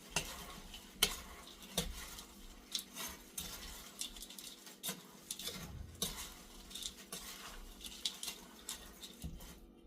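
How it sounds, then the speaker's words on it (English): Dry muffin ingredients being stirred in a bowl, soft repeated scraping and tapping strokes of a utensil against the bowl in an irregular rhythm, close and fairly quiet, without talk. "So now I'm just going to stir those in."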